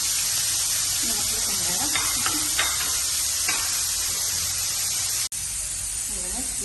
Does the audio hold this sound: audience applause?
no